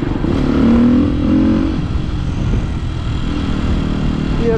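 A supermoto motorcycle fitted with a new Akrapovič exhaust revs steadily, its engine note rising and sustained at close range, with no voices.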